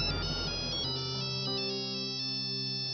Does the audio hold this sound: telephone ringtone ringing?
yes